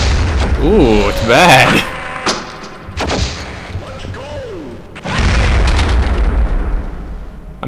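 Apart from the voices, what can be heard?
trip mine explosions from video game Gunman Chronicles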